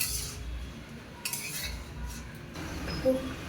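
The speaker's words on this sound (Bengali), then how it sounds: "এই বড় কড়াইতে ভেজে নেব দিলে বড় কড়াইতে নাড়তে খুব সুবিধা হবে" A metal spatula scrapes and clinks against a large kadai while frying and stirring fish for a katla kalia curry, with soft, intermittent scraping and a few sharper clinks close by.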